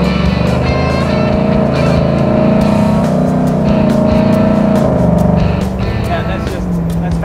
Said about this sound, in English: And you notice the transmission does its downshift.